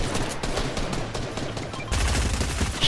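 Dense, continuous rapid gunfire from an assault rifle in the video game Fortnite, loud and sustained for a few seconds with a heavier burst toward the end, no talking.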